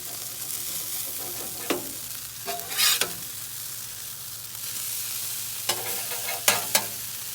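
Hash browns sizzle steadily on a Blackstone griddle while a metal spatula cuts them into sections, producing a few sharp scraping strikes against the flat-top over the constant frying hiss.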